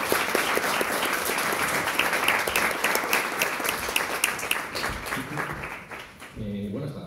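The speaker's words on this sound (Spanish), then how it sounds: "Muchísimas gracias, un aplauso." Audience applause at a book presentation event, dense sustained clapping from a crowd filling most of the clip, tapering near the end as a voice begins speaking.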